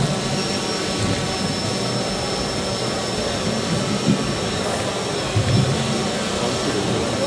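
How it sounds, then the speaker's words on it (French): A drone flying away: a steady, droning whir with broadband noise holds constant throughout, like a small aircraft engine hovering nearby, with faint low thumps now and then. "Et voilà, le drone. Et le drone repart."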